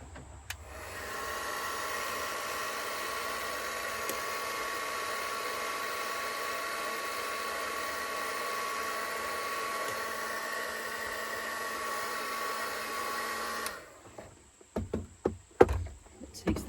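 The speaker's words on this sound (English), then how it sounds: "you're supposed to heat the surface up before you put any wax on it" A heat gun runs steadily for about thirteen seconds, warming the surface of an encaustic painting before wax goes on, then cuts off abruptly, followed by a few faint handling knocks.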